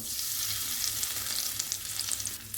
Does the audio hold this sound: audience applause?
no